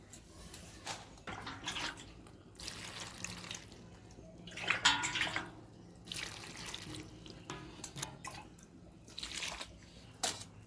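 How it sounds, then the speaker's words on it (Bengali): Cut potatoes rinsed under running tap water in a sink, a steady splashing stream with bursts of louder gushing and clatter as the pieces are swished about, close by with no talking. "এবার একটু জল দিয়ে ধুয়ে নিই"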